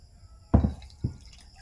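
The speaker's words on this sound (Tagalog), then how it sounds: "maglalagay po na po tayo ng isang tasa na tubig para yan ay ipiga natin sa ating niyog" A cup of water poured onto grated coconut, heard as two short splashing bursts, the first louder and the second smaller, close by in an otherwise quiet kitchen setting.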